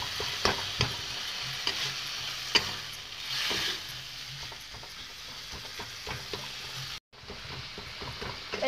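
Tomato stirred and fried in a pan for a mustard snakehead fish curry, giving a soft steady sizzle with repeated spoon scrapes and taps, a brief cut near the end, no talking.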